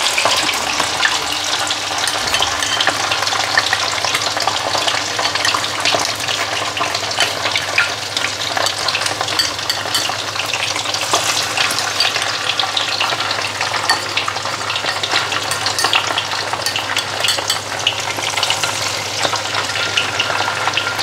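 Fish coated in magic flour batter fries in a pan with a continuous dense sizzle and crackle, steady and close throughout, with no talking.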